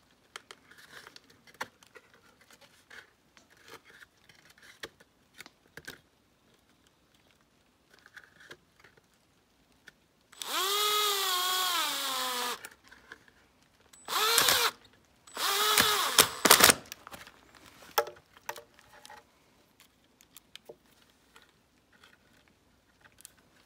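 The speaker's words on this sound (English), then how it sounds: "We're gonna drill pilot holes through just so that they don't split when we're screwing them together." A power drill bores pilot holes through wooden boards in three bursts, one long rising whine followed by two shorter ones, close and loud, amid quiet taps and handling noises.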